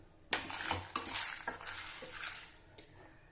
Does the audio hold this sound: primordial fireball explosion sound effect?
no